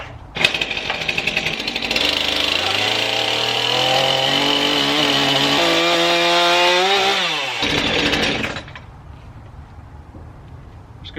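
Rough cutting a timber post for a timber-framed mailbox with a loud, close power saw: a steady, harsh buzzing drone for several seconds, rising and falling in pitch as the blade works through the wood, then stopping.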